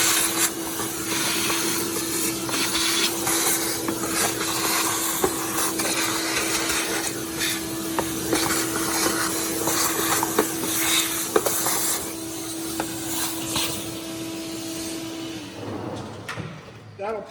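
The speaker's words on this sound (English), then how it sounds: "I'm just gonna suck out the air cleaner box real quick." A vacuum cleaner sucks debris out of the air cleaner box on a Ford F-150 pickup. Its close, loud, steady whine and airy hiss run without a break, then cut off near the end.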